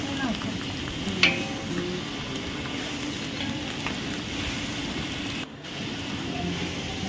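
Mustard seeds, cumin, peas, whole spices and curry leaves hit hot oil as a tempering for Gujarati potato fried rice, giving a steady close sizzle and crackle with occasional stirring clatter.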